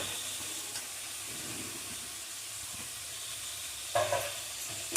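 Chopped vegetables and spring onion greens for momo filling sautéing in a pan, a soft continuous hiss and sizzle with a few clatters of stirring near the end, close and fairly quiet, no speech.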